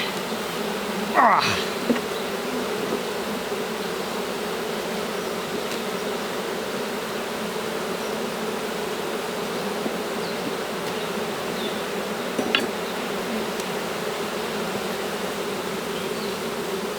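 Honeybees buzzing steadily around an open hive during frame swapping, a dense continuous drone close by with no talk.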